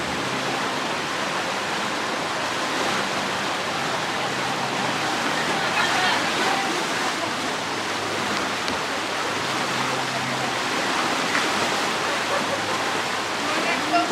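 Rushing water roars continuously on a rapids ride at PortAventura theme park, a loud, dense wash of churning white noise with faint voices mixed in.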